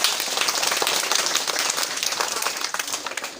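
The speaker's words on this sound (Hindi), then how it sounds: "शाबाश, ताली बजाओ बच्चे।" A group of children applauds, a dense patter of many small hands clapping together, loud at first and tapering slightly toward the end.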